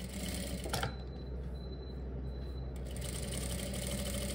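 A sewing machine stitching along a trouser waistband strip, a steady close mechanical whirr with fast rhythmic needle clatter, briefly easing mid-run before continuing, with no talk.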